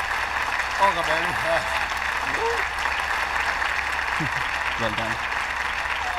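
A group claps steadily in a comedy film scene dubbed into Hindi, the applause sustained throughout, with voices speaking over it.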